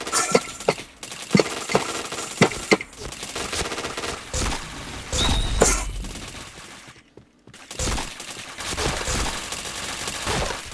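Video game gunfire crackles in rapid bursts of automatic shots and single sharp cracks, loud and close, with brief pauses and a player's voice speaking over parts of it.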